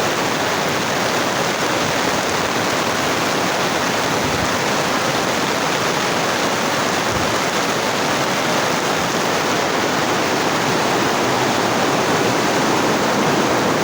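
A loud, continuous roar of rushing water, an even broadband hiss that holds steady for about fourteen seconds with no voices over it.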